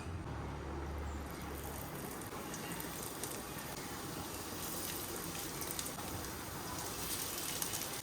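Fish roe fritters mixed with gram flour, onion, garlic and chilli frying in hot oil, a steady crackling sizzle heard up close and continuously, with no speech.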